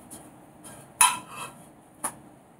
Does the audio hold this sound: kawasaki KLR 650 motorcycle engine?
no